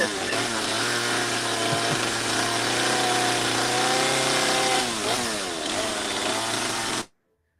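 A chainsaw runs steadily during live chainsaw wood carving, a loud, dense, continuous engine roar that dips and shifts pitch slightly near the end before cutting off abruptly into silence.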